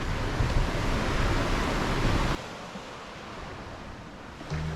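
Ocean surf breaks on a beach with a loud, rushing roar that cuts off abruptly halfway through to a quieter, softer wash of distant waves, with no voices.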